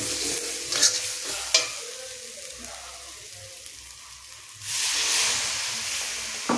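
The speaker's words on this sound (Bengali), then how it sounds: "এবার এখানে দিয়ে দেব পরিমাণ মতন জল।" Masala for a chickpea curry hisses in the pan with a couple of stirring scrapes, then water is poured in and a loud, sustained sizzling burst of steam follows.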